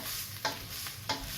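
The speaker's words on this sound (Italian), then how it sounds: "Intanto la padella continua a dire che frigge" Pasta with broccoli frying steadily in a pan, a continuous close sizzle with two brief louder stirring scrapes spaced about half a second apart, no talking.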